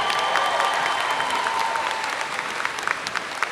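Crowd applause at a 2025 high school graduation ceremony, a dense steady clapping from a large audience that thins slightly toward the end.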